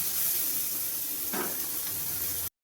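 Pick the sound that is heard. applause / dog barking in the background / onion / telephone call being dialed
onion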